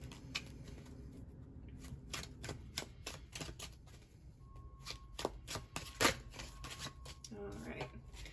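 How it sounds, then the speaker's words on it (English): Tarot cards are shuffled close by in a run of quick riffling clicks and flutters, with a voice speaking briefly among them. "Let's go ahead and shuffle up these cards."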